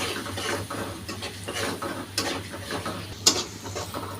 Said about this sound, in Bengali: এগুলো ভেন্ডি আর আলু চিংড়ি মাছ দিয়ে ভাজি করব